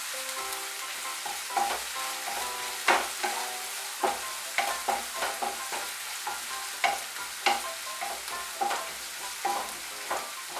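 Garlic paste sizzles in hot oil in a pan while being stirred, for a traditional Bengali eggplant dish, producing a steady frying hiss broken by repeated sharp scraping and clinking strokes of the spoon, close and clear with no talking.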